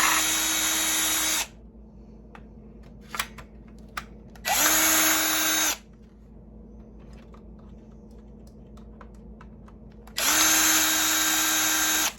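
A power screwdriver backs screws out of a Dell OptiPlex computer case in three loud, close, high-pitched whirring bursts of about a second each, with quiet handling noises and small clicks in the pauses.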